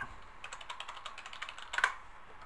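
Quick, light typing on a computer keyboard, a rapid run of close, crisp key clicks with a brief louder burst near the end, no voices.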